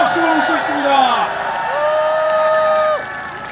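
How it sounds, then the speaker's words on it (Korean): Crowd at an outdoor protest rally welcomes a speaker with whoops and rising shouted cheers over a bed of applause, voices sliding up and down before the noise settles. "큰 박수로 모시겠습니다."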